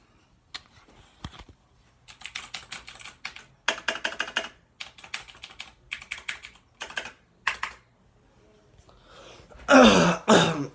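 Keystrokes clatter on a Razer computer keyboard in bursts of quick clicky typing separated by short pauses, close and fairly loud, with a louder rustling burst near the end.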